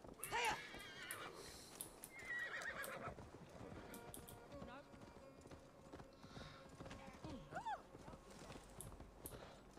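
A horse in Assassin's Creed Valhalla clip-clops along and whinnies twice, once near the start and again later, its hoofbeats running steadily beneath faint game sounds.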